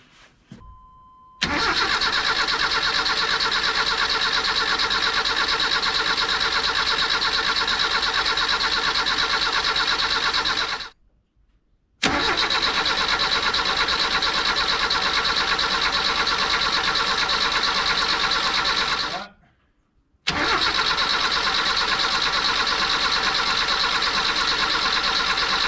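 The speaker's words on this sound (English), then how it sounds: "I'm going to start cranking on it. And I want to see that oil pressure come up." A Dodge Ram mini truck engine cranks over without catching, a steady loud starter whir running for about ten seconds at a time in three long bursts separated by brief pauses.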